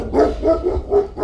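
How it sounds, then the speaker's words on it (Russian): A large dog barks loudly and close by, four deep, even barks in quick succession with short gaps between them, with no other sounds or speech. "у них очень большая собака"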